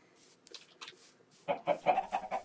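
Several short chicken clucks in a video game, quiet at first and then a louder run of rhythmic clucking, close by.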